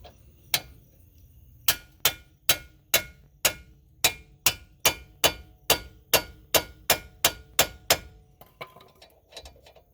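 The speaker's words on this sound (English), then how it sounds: "I'm go ahead and beat this in a bit with the sledgehammer." Sledgehammer beating the front lower control arm of a Chrysler Town & Country minivan into place, about seventeen sharp metallic strikes in a steady rhythm that quickens slightly, close and distinct with no talk.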